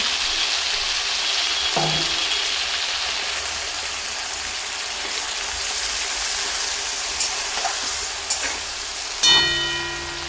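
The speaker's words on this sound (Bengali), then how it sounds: "পেঁয়াজটা লাল করে ভেজে নেবার পরে এতে আমি বেটে রাখা মশলাটা দিয়ে দিচ্ছি" Ground paste of onion, garlic, green chilli, cumin, coriander and mustard sizzles steadily in hot oil with browned onions for a rohu fish curry, a continuous close hiss with a couple of faint clinks near the end.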